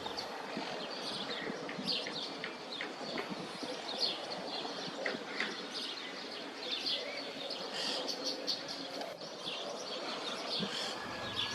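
Shorebirds such as the southern lapwing call along a lake shore near Guaminí, Argentina, with scattered sharp chirps and calls rising over a steady, moderately loud outdoor background.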